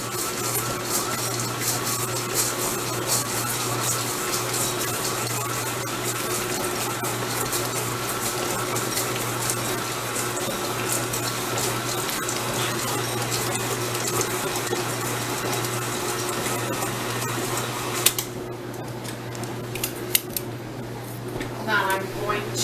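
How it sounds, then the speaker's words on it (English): KitchenAid stand mixer mixing meatloaf, a steady close motor whir with a constant low hum that runs unbroken for most of the stretch, then drops out near the end, leaving a few soft knocks. "I'm going to put it on my KitchenAid mixer, and we are going to mix it up for a few"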